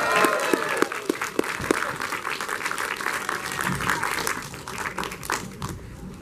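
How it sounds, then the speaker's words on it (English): A theater audience claps steadily for several seconds, a dense, lively burst of applause that fades slightly toward the end. "Let's have one more round of applause for Gremlins."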